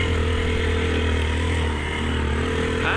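A motorcycle ridden along a road in cold weather, its engine droning steadily and loudly at close range the whole time, with constant wind and road rumble and no talk.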